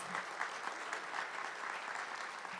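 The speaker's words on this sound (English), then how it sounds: "let's give him one more round of applause of thanks" A crowd gathered at a Weatherford College event gives a steady, dense round of applause that continues evenly throughout at a moderate level.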